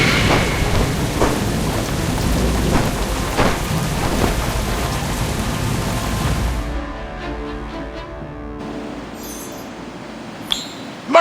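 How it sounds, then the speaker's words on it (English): Thunderstorm in the video game Harry Potter: Magic Awakened: heavy rain roars with rolling thunder for several seconds, then drops to a thinner patter with scattered drips and a sharp sound at the end. "What were you doing flying in that storm?"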